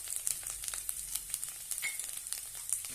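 Spices with garam masala and salt sautéing in oil for curry leaves rice, a soft, fairly faint sizzle with light crackles and occasional stirring ticks, no talk.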